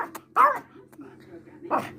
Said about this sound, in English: She wanted to do some barking for you